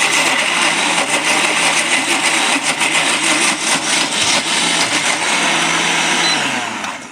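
A blender purées roasted beets with olive oil, running on low with a loud, continuous whirring grind that holds steady for several seconds before easing off at the end.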